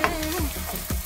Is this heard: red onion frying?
yes